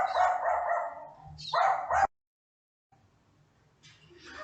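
A dog barks near a home in two loud, close bursts, then goes quiet before fainter, muffled activity returns.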